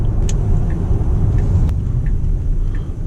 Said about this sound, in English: All right, so now we're going to turn on some back roads and see how the Teslas handle.